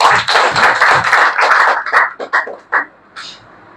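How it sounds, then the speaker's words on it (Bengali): Audience applause breaks out at a spoken event, a dense burst of clapping from a crowd that gradually thins into scattered claps before fading out. "বিশেষ করে সৈয়দ রনুর জন্য একটি করতালি হতেই পারে"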